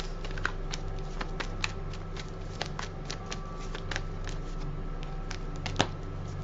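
Tarot cards being shuffled and tossed about in a reading, a steady soft papery riffle with sharp card snaps and flicks scattered throughout, close and fairly quiet with no talking.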